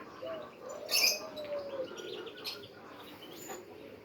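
Young homing pigeons out in the open, flying about, with faint, brief chirps and soft calls scattered over a quiet outdoor background; one slightly louder burst of calls stands out early on.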